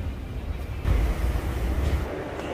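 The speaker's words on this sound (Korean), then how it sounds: "능곡 가는 전철이 있네요." A Korean subway commuter train bound for Neunggok gives off a steady broadband rumble that swells noticeably about a second in and then holds at a loud, even level, with no voices.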